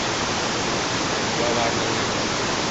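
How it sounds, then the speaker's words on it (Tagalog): Waterfall at Majayjay pouring in a constant dense broadband rush, loud and close, with no breaks or voices over it. "Ayan yung falls."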